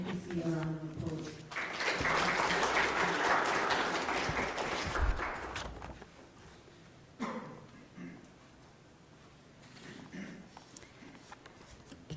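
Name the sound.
audience applause after monetary policy announcement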